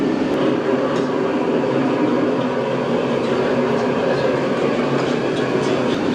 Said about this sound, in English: And again, you can hear the roar of the flame in the background.